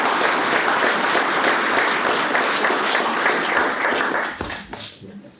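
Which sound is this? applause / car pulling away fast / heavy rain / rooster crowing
applause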